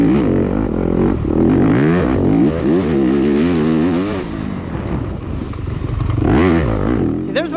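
A two-stroke enduro motorcycle corners during a sprint enduro race at Unadilla, its engine loud and continuous, pitch swinging up and down as the throttle opens and closes.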